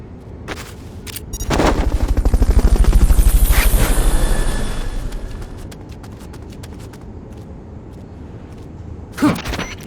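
A rescue helicopter in the video game Metal Gear Solid Peace Walker sounds with loud, rapid rotor thumping that swells in over a couple of seconds and then fades away. A short sharp bang comes near the end, with no talking.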